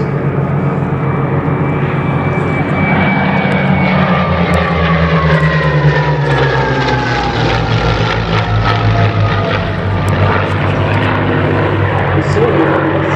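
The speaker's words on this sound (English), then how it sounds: "Here we have developing a typical late war dogfight, with the two Bouchons being due course in pursuit by a pair of Mustangs" Two Messerschmitt Bf 109 Buchons chased by a pair of Mustangs in a late-war-style air show dogfight at Duxford: loud, continuous piston-engine roar with rising and falling propeller pitch as the fighters pass and turn.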